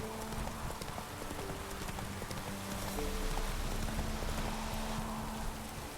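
A horse gallops through rain in The Witcher 3, with steady rhythmic hoofbeats under a constant wash of rainfall and a low tonal hum in the background, no voices.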